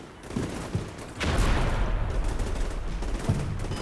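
A mortar ranging shot in the Combat Mission: Black Sea war game, a sharp single report that rolls into a sustained rumbling roar and slowly fades, heard near and loud with no voices.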